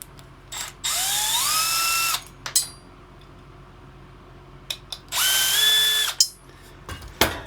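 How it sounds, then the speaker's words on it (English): Power drill backing screws out of shelving, two separate runs of steady high whine with a rising pitch as each starts, a few short clicks and clunks between them, close and loud with no talk. "But I will be taking these screws out"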